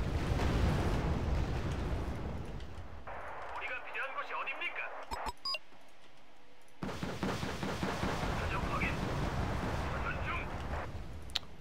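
Gunfire and explosions in the war strategy game Wargame: Red Dragon, dense rumbling bursts of automatic fire and blasts that cut out for a couple of seconds mid-scene before resuming loudly, with a voice talking over them.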